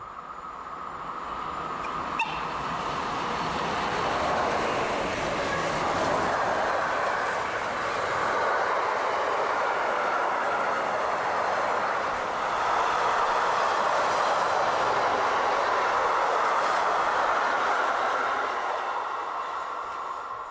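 A train hauled by a Class 140 electric locomotive rolls steadily past at close range, a broad sustained roar of wheels and rails that swells and stays loud for the whole stretch.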